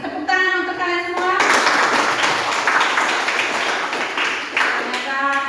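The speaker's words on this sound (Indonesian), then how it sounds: "Tepuk tangan untuk kalian semua." Clapping from a classroom of Indonesian students praised by their teacher, a burst of hands lasting a few seconds with a voice speaking at the start and end around it.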